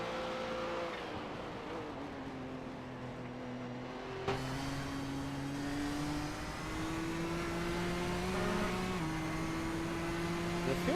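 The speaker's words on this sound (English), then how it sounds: "Yeah, it's incredible, that blow-off valve sound." Nissan race car in the iRacing video game, a steady turbocharged engine note climbing through revs with a sharp change around a gear shift, fairly quiet and without talk.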